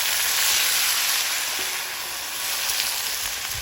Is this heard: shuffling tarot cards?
no